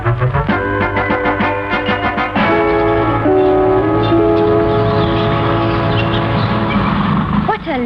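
A steam train working at a country railway station in an old radio drama, chuffing rhythmically and then settling into a steady rumbling roll, loud and close, with talk over it.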